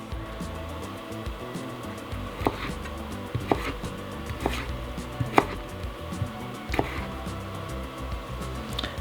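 A knife chops vegetables into thin quarter-inch julienne matchsticks while tofu is prepared, with soft, evenly spaced strikes on a board over a steady background hum and no talk.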